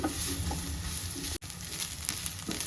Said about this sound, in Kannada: ಇದನ್ನು ಹಾಕಿ ಈರುಳ್ಳಿ ಜೊತೆಗೆ ಇದನ್ನು ಫ್ರೈ ಮಾಡ್ತಾ ಇರಬೇಕು